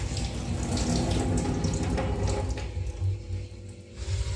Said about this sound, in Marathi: स्वच्छ चोलून घ्यायचे डाळेला आणि धुवायचे